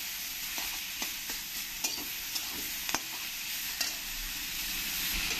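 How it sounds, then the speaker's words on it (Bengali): Onion, garlic, coriander and mint leaves stirred together in a pan, with a steady soft sizzle and intermittent scraping clicks of a spatula, close and moderately loud, no voices. "পেঁয়াজ, রসুন, ধনে পাতা, পুদিনা পাতা একসঙ্গে মিশিয়ে নিতে হবে।"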